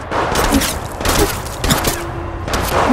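Rapid gunfire crackles through an Apex Legends Mobile firefight in quick, loud bursts of shots close by, separated by brief gaps, with no speech.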